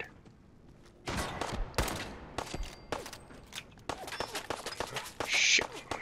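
Gunfire in Fallout 4 comes as rapid sharp shots in bursts, some close and loud, with a few spaced single cracks and footsteps between them.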